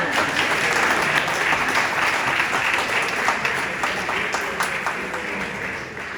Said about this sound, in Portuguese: Vamos aplaudir a Deus pela vida do pastor Elias